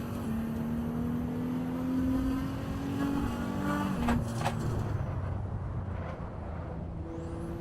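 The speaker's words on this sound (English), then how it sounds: "you hear that whistle on this supercharger?" Supercharged car engine in the Assetto Corsa racing game, a steady engine drone with a faint high supercharger whine layered over it, pitch shifting as the revs change, with a brief clunk midway and the note dropping toward the end.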